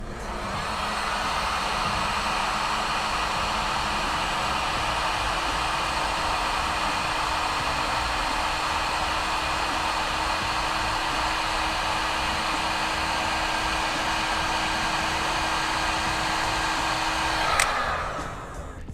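A heat gun blows steadily to shrink wire connector tubes during a car stereo wiring job on a Toyota 4Runner, a constant close roaring hiss lasting nearly the whole stretch before cutting off.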